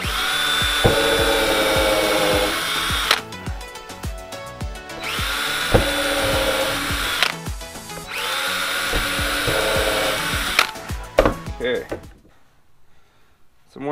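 A power drill cutting holes runs in three long, loud whining passes, each spinning up and holding steady before stopping, with brief pauses between them, ending in near silence.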